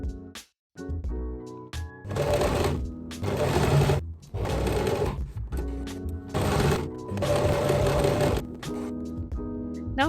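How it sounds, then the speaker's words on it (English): A sewing machine stitches the shoulder seams of an oversized 80s-style vest, running in four loud, steady whirring bursts separated by short pauses, with faint clicks of the fabric being handled in between. "After that, I'm putting together my shoulder seams and sewing at them."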